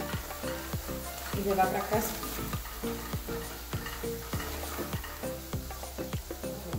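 Coconut milk sizzling in a pan as crab filling for casquinha de caranguejo is stirred, with steady frying hiss and repeated spoon scrapes and clicks against the pan, and a voice speaking briefly.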